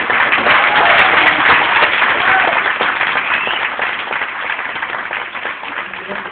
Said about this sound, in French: on peut aussi applaudir Sacha et toute l'équipe